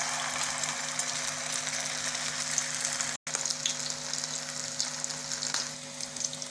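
Potato seekh kebabs fry in medium-hot oil over a medium flame, giving a constant close sizzle and crackle with one very brief dropout midway and no speech.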